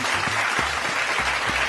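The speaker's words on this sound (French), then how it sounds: "Applaudissez pour lui" An audience applauds at a rally for Gabon's president, giving a thick, continuous wash of clapping with no break, fairly loud and close, with some low rumbling underneath.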